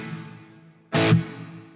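A single short distorted electric guitar chord rings out through a Plexi amp simulation plugin with an EL34 power section and light reverb, loud and abrupt, following a fading sustained tone.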